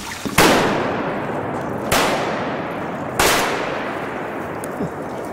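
Three loud shotgun blasts ring out while duck hunting, each a sharp crack spaced roughly a second and a half apart, echoing and trailing off across open ground.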